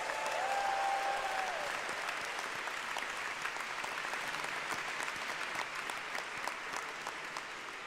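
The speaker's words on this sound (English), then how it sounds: "Let's have another round of applause for our doctoral degree recipients." An audience at a music school commencement ceremony applauds doctoral degree recipients: sustained, dense clapping from a large crowd that holds steady for several seconds and fades slightly toward the end.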